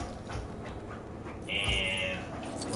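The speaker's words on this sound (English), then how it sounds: "And my puppy's like freaking out." A puppy whimpers and fusses in a room while game audio plays, with a brief high whine rising above the background.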